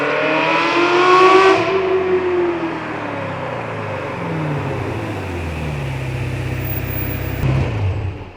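A race car engine at the Imola circuit screams past, rising and then falling in pitch as it drops away into the distance, loud and alone.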